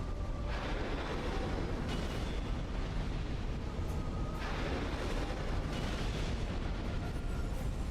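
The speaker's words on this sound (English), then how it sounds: "I will simply not die to this big-ass fire sweep" A boss's sweeping fire attack in Dark Souls II, a dense roaring rumble with repeated explosive bursts surging and fading across the whole stretch, loud and continuous.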